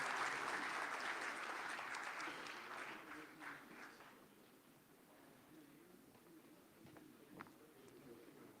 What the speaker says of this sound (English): let me get a strong round of applause for the partners and sponsors of the second Global Islamic Economy Summit in Istanbul